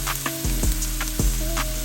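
Shallots and garlic sizzle as they caramelize in a pan, a steady close frying hiss broken by a few sharp stirring scrapes, with no talking.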